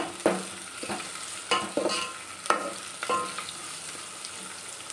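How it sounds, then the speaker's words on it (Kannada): Eggplant, onion and green chillies fry in oil for vangi bath, a steady sizzle punctuated by repeated sharp clacks of a spatula stirring the pan, with nobody speaking. "ಆಮೇಲೆ ನಾನು ಈರುಳ್ಳಿ ಹಾಕೋತಾ ಇದ್ದೀನಿ. ಹಾಗೆ ಅದ್ರ ಜೊತೆನೇ ನಾನು ಮೆಣಸಿನ್ಕಾಯಿ ಕೂಡ ಹಾಕೋತಾ ಇದ್ದೀನಿ."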